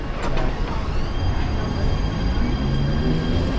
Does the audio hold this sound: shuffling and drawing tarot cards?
no